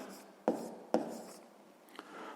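Pen strokes on paper while noting down the conditions of a sixth-grade math problem, with a few short scratchy marks and two sharper taps, close and quiet with no voice.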